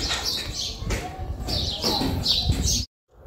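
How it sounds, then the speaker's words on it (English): Birds chirp in short bright bursts in the quiet old walled city of Mdina, Malta, near the entrance bridge. The calls repeat steadily against a soft background hum, then stop abruptly. "It's very quiet city and all you hear is birds."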